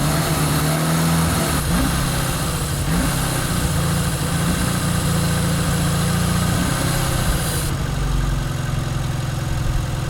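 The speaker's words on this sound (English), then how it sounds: "I covered up that vacuum leak with my finger and it's basically idling" An old Volvo engine with a vacuum leak idles unevenly and near, giving a steady low rumble with brief dips and shifts in tone. Faint rattles and clicks join in partway through.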